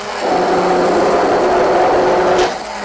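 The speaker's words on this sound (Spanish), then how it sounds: "Para que no nos quede ningún grumo, yo le pongo el batidor eléctrico." An electric whisk whirs steadily through chocolate cake batter with cream, a loud, close buzzing hum lasting a few seconds before it cuts off.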